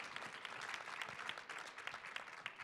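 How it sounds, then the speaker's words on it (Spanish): An audience at a panel discussion gives steady, moderately distant applause, dense clapping that carries on throughout without voices over it. "un gran salva de palmas para el panel"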